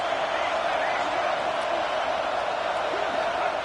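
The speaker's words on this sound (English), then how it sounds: "this crowd is fired up. Listen to this noise here." Dense, steady crowd roar from a packed football stadium at an SMU versus South Carolina game, a continuous wash of cheering voices at even loudness throughout with no single voice standing out.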